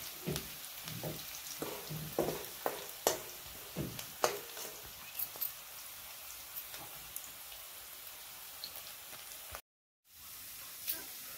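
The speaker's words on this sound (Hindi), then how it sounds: "ये जीरा को डाल देंगे इसमें और हम इसको फ्राई करेंगे।" Cumin seeds fry in a pan for a spicy karhi, giving a faint, soft sizzle with scattered small pops and crackles that thin out toward the end.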